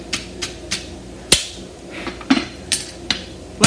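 A hammer flattens a European hind barshoe horseshoe during forging, striking metal in about nine sharp, ringing blows. The blows are irregularly spaced and close by, with quieter background noise between them.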